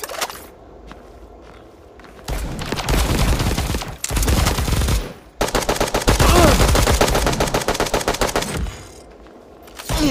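Rapid bursts of explosive-ammunition gunfire in the shooter game Bullet Echo, with loud sustained volleys broken by short pauses and footsteps between them.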